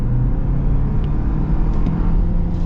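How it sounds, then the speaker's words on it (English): A Toyota car engine is held at full throttle, a steady droning roar of moderate loudness heard from inside the car with no talking. "here's full throttle"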